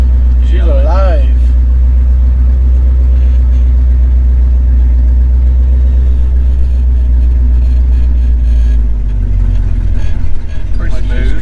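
A 53-year-old truck's engine running on the road during a long road trip, a loud, steady low drone with a shift in tone near the end.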